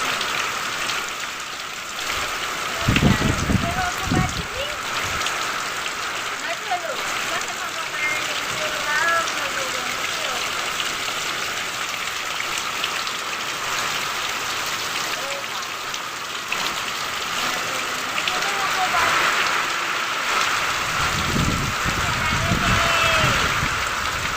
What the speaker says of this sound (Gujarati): ફૂલ વરસાદ ચાલુ છે કોઈ દેખાતું નથી એવો છે પવન સાથે પવન પણ ફૂલ આવેલો છે